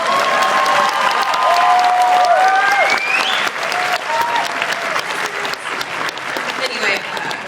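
A large crowd at an anime convention applauds loudly and steadily, with scattered whoops and cheers riding over the clapping and voices audible within the crowd.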